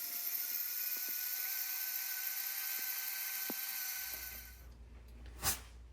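Electric countertop grain mill grinds grain into flour with a steady, high-pitched whine and whir that runs for several seconds, then cuts off, leaving quiet and a soft thump.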